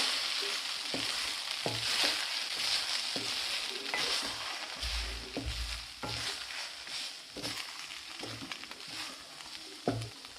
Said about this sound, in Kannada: ಕಮ್ಮಿ ಉರಿಲಿಟ್ಟು ಸ್ವಲ್ಪ ಕಲಿಸ್ಕೊಡ್ಬೇಕಾಗುತ್ತೆ